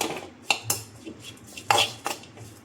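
Crab masala with turmeric being fried and stirred in a pan, heard as a series of sharp metallic clinks and scrapes from a utensil against the pan, close and fairly quiet, with no talking.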